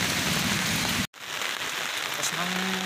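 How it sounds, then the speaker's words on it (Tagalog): Heavy rain pours down in a dense, loud hiss, briefly cutting out for an instant before resuming just as strong. "Kasi lakas ng ulan, no?"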